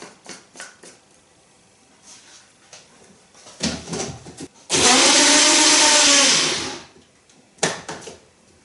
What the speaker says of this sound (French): Et maintenant, on va mixer tout ça.